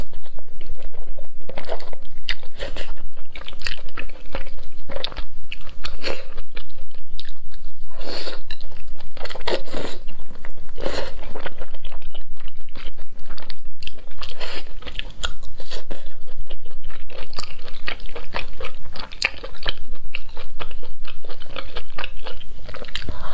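Close, crisp chewing and biting of stir-fried rice noodles with cabbage and rice cake strips in a Chinese food mukbang, steady crunchy mouth sounds repeating throughout with no talking.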